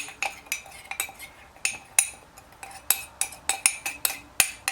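Turmeric and pepper powder stirred together in a small container, a quick run of sharp metallic clinks and taps from a spoon, about a dozen irregular strikes, close and crisp with quiet gaps between them.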